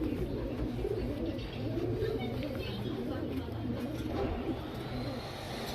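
Pigeons coo softly and repeatedly among a busy flock of birds, a low continuous burble with someone talking nearby.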